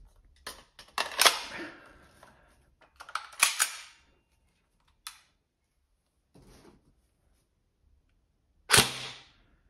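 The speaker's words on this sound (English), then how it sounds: "this gun shoots every BB" A Tokyo Marui Mk18 Mod1 next-generation recoil shock airsoft rifle firing BBs, giving sharp, loud mechanical snaps and clacks in a few separated bursts with quiet gaps between them.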